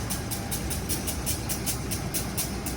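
Siantar Express passenger train on the Siantar–Medan line shunting to couple with its passenger cars, a low idling locomotive rumble under faint rhythmic clanking, steady and moderately distant.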